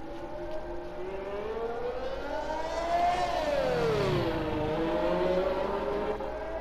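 Racing car engines in the F1 2021 game whine continuously; one engine's pitch climbs and then drops as it sweeps past, with others droning underneath and no talking.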